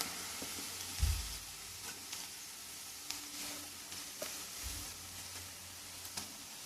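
Oil sizzling steadily in a pan before ginger garlic paste goes in for a chicken curry, quiet and close, with a couple of soft bumps of a spoon against the pan and no talk.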